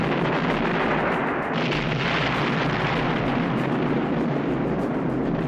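Explosions from a 1970s British monster B-movie set underground, heard as a continuous roaring, crackling barrage of blasts and rumble, loud and dense throughout with no pauses.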